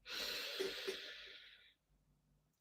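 A slow, deep inhale during a guided relaxation breathing exercise, a soft breathy hiss that swells and then fades out, close and quiet, with no talking over it.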